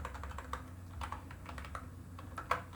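Code being typed on a computer keyboard for a C program, soft rapid key clicks in uneven bursts, fairly quiet and close, with no voice over them.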